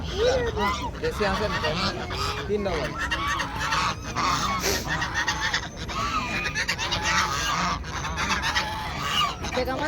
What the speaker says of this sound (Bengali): কতগুলো হাঁস ওই দেখেন ওইগুলো সব চলে আসছে